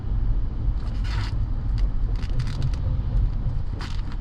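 A used car idling in a multi-storey parking garage, giving a steady, fairly loud low engine rumble throughout with a few faint scrapes and clicks above it.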